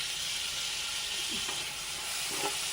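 Chicken pieces and tomatoes fry in an oil-filled pan for a country-style chicken curry, a steady broadband sizzle with soft scraping stirs near the middle and end, close and continuous without any voices.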